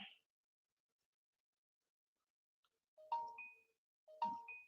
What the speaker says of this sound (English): There come our notification.